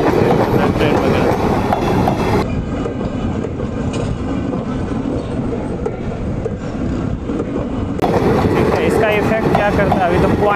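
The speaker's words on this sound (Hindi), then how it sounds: "ये देखिए कितना रफ्तार से जा रहा है ट्रेन" A train rushing past fast on a railway track with concrete sleepers, a loud, close, steady roar with rhythmic clickety-clack of wheels over rail joints throughout.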